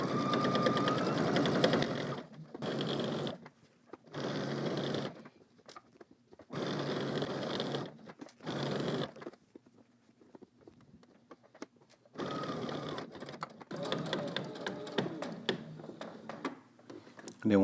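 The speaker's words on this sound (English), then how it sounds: "let's head to the machine and stitch that down" A domestic sewing machine stitches fabric in several bursts separated by short pauses, starting and ending with back stitching; the whirring runs are steady, close and loud, with no talk over them.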